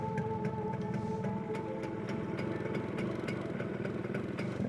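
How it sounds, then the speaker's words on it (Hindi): Motorcycle engine running at a steady idle, a low continuous throbbing rumble with faint rhythmic clatter, moderately distant and without voices. "जमील के बाइक से आवाज कैसी आ रही है?"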